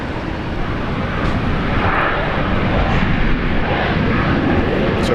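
A QantasLink airliner at Brisbane International Airport roars steadily and loudly throughout, a broad continuous engine rumble with no talk over it.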